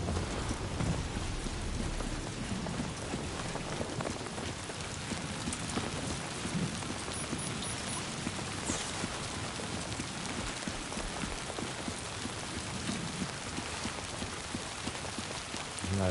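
Steady timefall rain pours across a Death Stranding 2 game scene, a dense unbroken hiss of drops on surfaces with low rumbling beneath, constant and fairly loud throughout with no talking.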